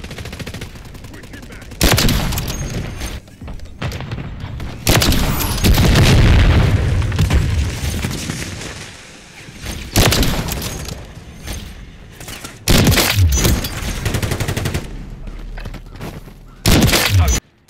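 Sniper rifle gunfire in a first-person shooter, including the MCPR 300 and FJX Imperium: loud, booming shots and bursts arrive in heavy clusters, some rolling into longer echoing blasts, with a voice talking now and then between them.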